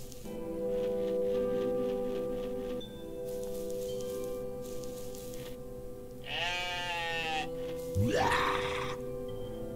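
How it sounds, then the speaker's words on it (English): An odd goat in the pixel-art game OneShot gives a warbling, strained bleat that rises and wavers, then a second sharper bleat, heard over a steady droning background tone. "That is one weird goat"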